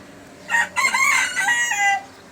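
A single close, loud rooster crow rising and drawn out, with a quiet background before and after.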